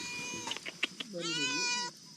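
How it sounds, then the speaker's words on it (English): A cat at a remote mountain village home meows in a long drawn-out call, preceded by a few short chirps, close by while people talk around it. "there's a cat that's very happy there's visitors."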